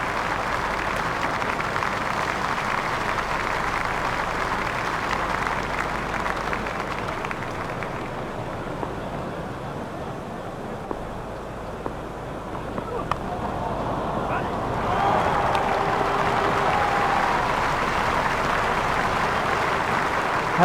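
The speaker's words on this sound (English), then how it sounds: "Crowd are standing and applauding." A cricket crowd at a New Zealand versus West Indies one-day international stands and applauds a batsman's half century, steady distant clapping and cheering under a commentator's voice.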